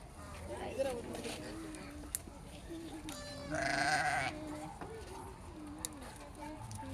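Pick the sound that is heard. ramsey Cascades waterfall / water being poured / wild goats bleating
wild goats bleating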